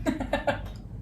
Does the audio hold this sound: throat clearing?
yes